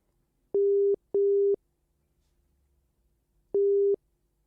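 A telephone line sounds three clean, loud electronic tone pulses as a radio presenter rings a guest live on air, two close together and a third after a pause.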